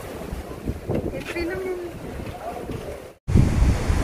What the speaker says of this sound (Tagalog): Lakas ang alon, guys